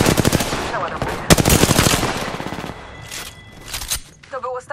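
Machine gun fire in Apex Legends: rapid, loud automatic bursts with dense rhythmic shots, a sharp crack partway through, then quieter game sounds and a short electronic tone. A voice talks intermittently.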